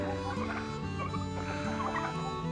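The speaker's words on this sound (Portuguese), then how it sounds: "Olha o peru querendo atacar o capataz." A turkey on a small farm gobbles repeatedly in rapid, rattling bursts, close and loud, as it tries to attack a farmhand.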